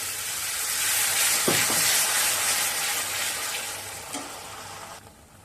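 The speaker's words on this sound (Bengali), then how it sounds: "এবার আদাটা একটু কষিয়ে নিই" Ginger-chili paste fries in a pan for a rohu fish curry, a steady broadband sizzle with a couple of sharp spoon-on-pan clinks and stirring scrapes, close and moderately loud, no voices.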